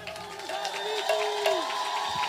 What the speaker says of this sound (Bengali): আপনারা সবাই একবার উলুধ্বনি দেন আর হাত তালি বাজান